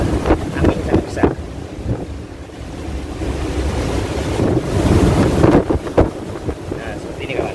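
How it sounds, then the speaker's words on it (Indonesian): Big waves surge and crash at Watu Lepek beach while strong wind gusts out of a sea cave, a loud, continuous roar buffeting the microphone with repeated swells building and breaking close by. "pada sore hari ini ombaknya sangat besar sekali sehingga menghasilkan angin sangat besar"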